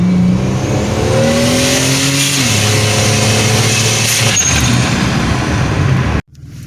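A turbocharged 1999 Buick Regal GS accelerates hard from inside the cabin, the engine note climbing steadily through a gear change before cutting off abruptly near the end, loud and continuous.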